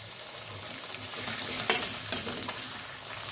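Chopped onion, ginger and garlic fry in a pan for egg pulao, a soft continuous sizzle with a couple of sharper scrapes and clinks from stirring, fairly quiet and with no talking.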